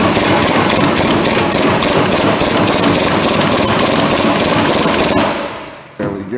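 Steel puller working loose the input yoke on the 8.8 rear axle of a Ford F-150 during a re-gear, a loud dense clatter of repeated metallic impacts and machine rattle that runs steadily, then drops away near the end.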